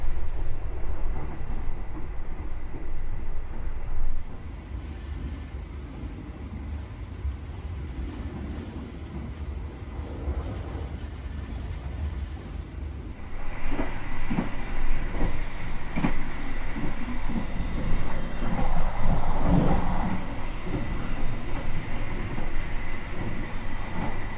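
Argo Semeru executive train, a New Generation executive carriage, running straight through Ngawi station without stopping; steady loud rumble and rail noise throughout, growing louder partway through, with brief sharper clatters.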